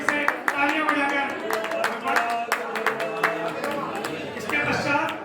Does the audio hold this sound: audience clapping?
yes